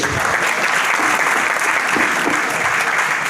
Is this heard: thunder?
no